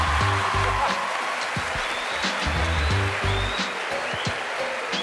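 Steady applause for a cat on the set of O Ses Türkiye, a continuous hissing wash of clapping at moderate level with low, pulsing music running underneath.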